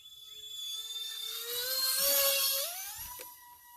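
A small E-flite Citation Longitude UMX electric RC model jet, flaps down, flies slowly past with a steady high whine whose pitch rises and swells slightly mid-pass, no voices.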